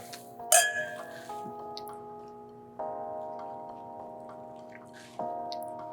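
Glasses clink together in a celebratory toast, a bright ringing tap near the start followed by lingering chimes and further soft taps over a quiet indoor background.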